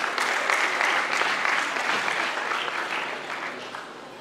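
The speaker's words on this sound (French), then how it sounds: "On peut applaudir pour lui." Audience applause at a debate competition final, a dense continuous clapping from a crowd that holds steady and slowly thins toward the end.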